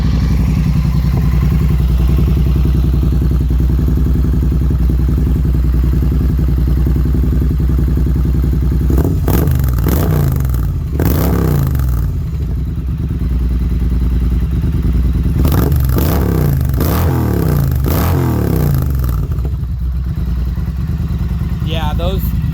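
A Triumph Street Cup motorcycle fitted with an SC Project exhaust idles with a loud, deep rumble, then is revved in two sharp bursts with falling revs after each.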